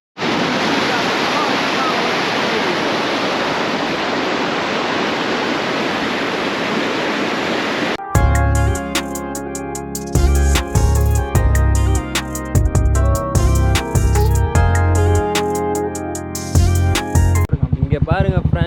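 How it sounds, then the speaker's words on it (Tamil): River water pours over Velliyur check dam on the Kosasthalai river in a loud, even rush for about eight seconds before music abruptly replaces it. "தண்ணி வருது, ஒரு 2 வாரம் வரைக்கும் தண்ணி வரும்"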